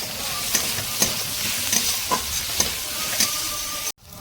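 Onions sizzling as they fry in a pan with a little salt, a steady crackle broken by several sharp scrapes and taps of a spatula, close and fairly loud, ending in an abrupt cut.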